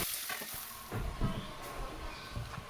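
Meat fries in a pan at home, giving a soft, continuous sizzle with faint scraping and stirring sounds, heard from a short distance at modest volume.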